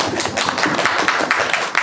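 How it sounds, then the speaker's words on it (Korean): A cinema audience at a film screening Q&A breaks into loud, brisk applause, many hands clapping rapidly and close together for the full stretch. "공성아 배우님 어머님께 박수 한번 드리겠습니다"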